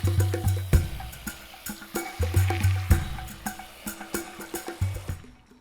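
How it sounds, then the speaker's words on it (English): Water poured from a container over dry beans in a large bowl to soak them, with splashing and repeated knocks and clinks of the bowl, close and fairly loud, briefly trailing off at the end. "I'm gonna pour enough water to cover it."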